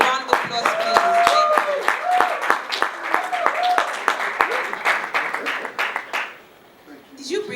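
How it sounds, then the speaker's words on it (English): Scattered, uneven clapping from a modest conference audience at a proptech event, with distinct individual claps under voices and chatter, thinning out and fading near the end. "A round of applause, please."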